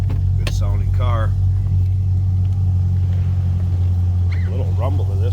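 A 2010 Chevrolet Camaro 2SS idles close by with a deep, loud, steady rumble while someone talks over it.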